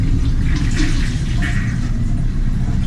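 A toilet flushes in a shared bathroom of a four-bed male dorm room, a loud rushing of water that surges strongly and then keeps churning steadily close by.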